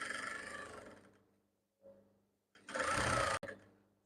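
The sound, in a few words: sewing machine stitching down kimono fabric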